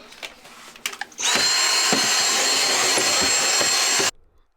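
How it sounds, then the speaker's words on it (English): A household vacuum cleaner starts up and runs loud and steady for about three seconds while cleaning a child's clothes storage area, with faint knocks of the nozzle against surfaces, then cuts off abruptly. "So I'm going to hoover."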